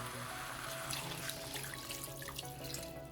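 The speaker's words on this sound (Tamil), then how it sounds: "குழம்புக்கு தேவையான தண்ணி சேர்த்துடலாம்." Water pours steadily into a pot of chicken curry with potatoes, a continuous splashing gush with faint clinks, close and moderately loud, no talking.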